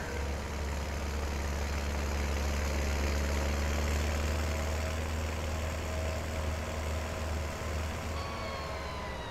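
A small tractor idles in Farming Simulator 19, giving a steady, even engine drone that holds level and close with no revving.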